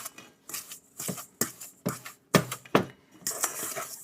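Banana bread batter worked by hand with butter, a wet, irregular squelching and scraping in short bursts roughly every half second, close and moderately loud with no talking.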